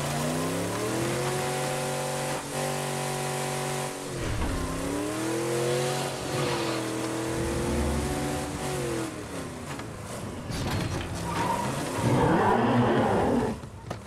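A car in State of Decay 2 is driven hard, its engine revving loud and close, the pitch climbing and dipping repeatedly before a rough, gritty roar near the end.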